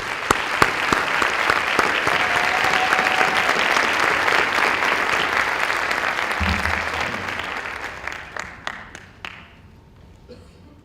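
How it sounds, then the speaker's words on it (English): An audience at a 2018 National Honor Society ceremony applauds the teachers. The clapping is broad and sustained, then breaks into a few scattered, distinct claps as it dies away. "Let's give them a big round of applause."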